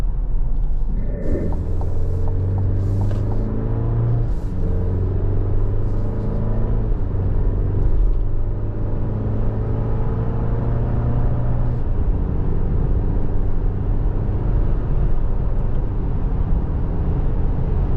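Inside a 2025 Chevrolet Colorado Z71 midsize pickup cruising on the highway, a steady broadband wind rush sits over a low road and engine rumble, with a few tonal hums shifting early on, constant and close throughout.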